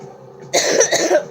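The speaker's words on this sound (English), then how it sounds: "Sorry for the coughing." A burst of harsh coughing from a sick person, close and loud, several rough hacks in quick succession with no one talking.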